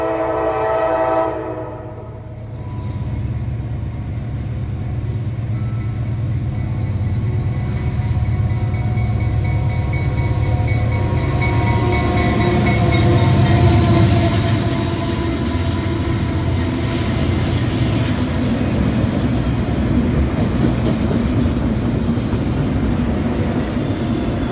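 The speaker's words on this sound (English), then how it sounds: "That is another train." A train rumbles past nearby, its low steady roar swelling in the middle, with a horn sounding over the rolling noise.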